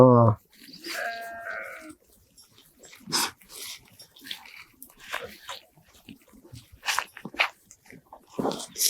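A sheep bleats loudly a couple of times up close, followed by scattered animal calls and brief noisy bursts in an outdoor setting.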